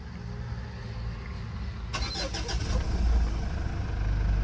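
A 2014 Mitsubishi Montero engine cranks and catches about halfway through, then keeps running with a steady, low rumble that builds slightly in loudness.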